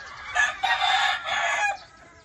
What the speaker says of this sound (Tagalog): Hindi ko alam pangalan ng manok na yan.